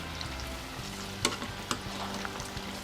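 Battered kwek kwek eggs fry in a pan with a close, steady crackling sizzle, broken by a couple of sharp clicks from stirring or turning, with no talking.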